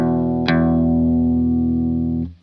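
Picked notes from a song's intro on electric guitar: a chorused, lightly distorted note is joined by a second pluck, and both ring out together before damping at the end.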